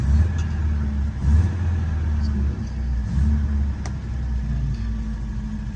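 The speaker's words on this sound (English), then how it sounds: "I'm just going to turn her over for you." A 1959 MG Magnette MK3 engine runs at a steady idle with a low, even rumble that swells briefly once or twice. It sounds close and continuous, and a voice says a few words over it.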